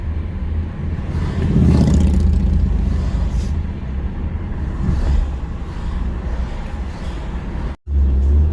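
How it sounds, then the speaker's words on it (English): A Chrysler 200 cruises along a road, its engine and tyre roar holding a steady low drone with a slight swell as it accelerates, close and continuous, cut by a brief dropout near the end. "I'm driving my Chrysler 200 today."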